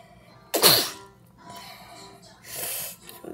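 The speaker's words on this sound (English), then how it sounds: "I don't know why I'm sneezing." One sharp, loud sneeze bursts out, followed by quieter breathy sniffing and a second softer exhalation.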